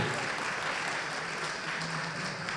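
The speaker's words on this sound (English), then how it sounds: "Please, no applause." Audience applause at a newspaper's annual labor awards ceremony, a dense, even wash of clapping from a crowd, moderately loud and sustained without a break.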